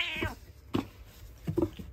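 Cats fight over a cardboard box, giving out three loud, close yowls and caterwauls in quick succession, each a strained, rising cry with a short pause between.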